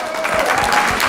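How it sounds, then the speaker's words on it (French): Audience applause after a comedy sketch by an amateur theatre troupe, a short, loud and dense burst of clapping. "On les applaudit."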